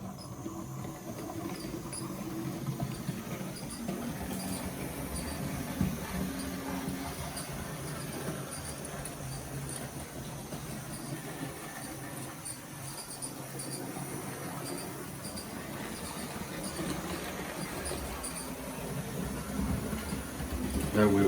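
A model 0-4-0 steam locomotive named Anna runs along track pulling wagons, a faint, continuous rolling rumble with light wheel clatter and squeal throughout.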